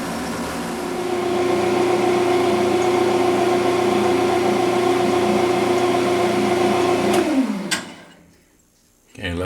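A dust collector runs in a woodworking shop during slimline pen making, a loud steady motor drone that holds evenly, then winds down and cuts off near the end.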